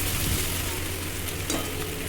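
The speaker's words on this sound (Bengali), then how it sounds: "আদাটা একটু ভাজা হয়ে গেছে, গন্ধটাও বেরিয়ে গেছে" A soft, steady sizzle of ginger and tomato paste frying in hot oil, close and continuous, with a faint stir.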